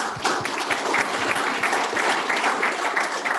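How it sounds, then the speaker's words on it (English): A room of attendees at an offshore wind forum claps in sustained, even applause after a presenter finishes, many hands blending into a continuous patter. "round of applause"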